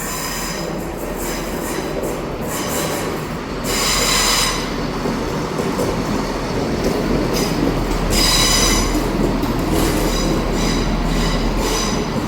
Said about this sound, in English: Arriving in now is the 1407 ScotRail service from Aberdeen to Glasgow Queen Street.